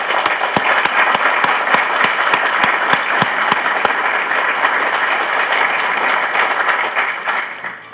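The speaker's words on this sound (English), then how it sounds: "They deserve a round of applause as well." Sustained loud applause from a large audience at the opening ceremony of the new US embassy building in Kosovo, honoring the construction workers, steady clapping for about seven seconds before tapering off at the end.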